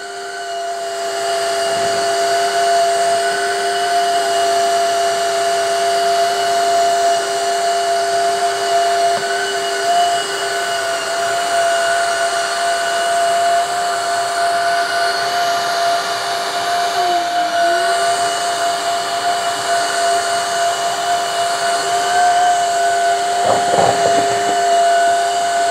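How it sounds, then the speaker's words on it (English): A Shark WD201 HydroVac cordless vacuum mop runs on area-rug mode while cleaning a rug, giving a steady loud whine with high tonal hum throughout, a brief dip in pitch partway, and a few faint knocks near the end. "This time I'm gonna turn it on and then hit the area rug button."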